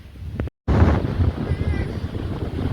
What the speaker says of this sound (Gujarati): તડકો એ પણ પવન બી એટલો છે